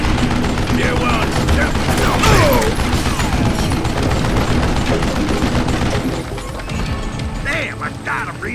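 Dense, continuous gunfire and clattering effects from the Western shooter Call of Juarez: Gunslinger, loud and sustained with overlapping shots, thinning out near the end as a voice speaks over the action.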